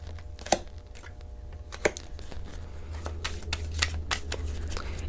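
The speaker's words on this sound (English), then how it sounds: "So I'm going to keep on doing my shuffling" Tarot cards are shuffled repeatedly, producing crisp riffling bursts and soft slaps in an irregular rhythm, close and clear.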